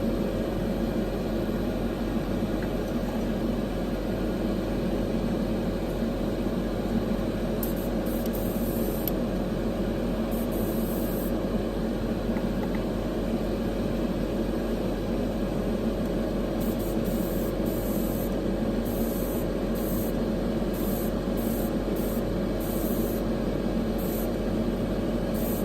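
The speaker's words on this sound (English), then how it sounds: "Hopefully, you'll still be able to hear me over the compressor and the fan of the" The airbrush compressor and spray booth fan run together as a loud, steady, unbroken hiss and hum from start to finish, with no speech.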